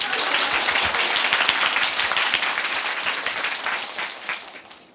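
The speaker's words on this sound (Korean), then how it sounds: "박수 한번 쳐줘야지" Lecture audience applauding at a Korean exam-prep special lecture, steady dense clapping throughout that tapers slightly at the end, with no talking.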